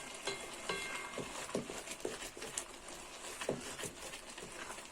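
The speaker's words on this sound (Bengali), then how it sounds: "তো এইভাবে জোরে জোরে করে নাড়তে হবে" Leafy greens stirred vigorously in a cooking pot while cooking village style, with a soft sizzle beneath repeated scraping and rustling strokes at an uneven rhythm, close and fairly quiet.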